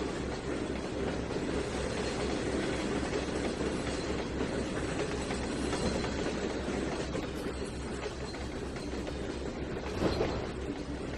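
A train moves along the track in the Trainz 2019 railroad simulator, a steady rumbling roll with faint wheel clatter that holds at an even level throughout, with no voices.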